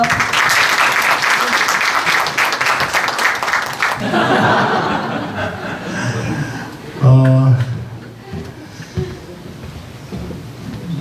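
At a book launch, an audience gives loud, dense applause for about four seconds before it fades, giving way to scattered laughter and chatter, with a voice speaking over the room afterward.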